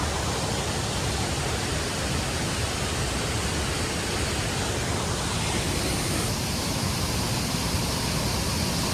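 A waterfall at Devil's Hopyard, Connecticut roars continuously at close range, a dense broadband rush of falling water with no pauses.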